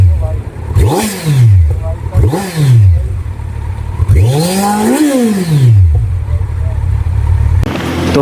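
Kawasaki Z900 motorcycle with a 948cc inline-four engine revs repeatedly, close and loud, in several sharp rising-and-falling bursts. The longest, highest sweep comes near the middle.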